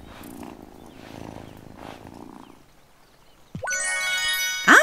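A cat in the farming life game Wylde Flowers purrs in a soft, low rumble, followed by bright chiming game sound effects near the end.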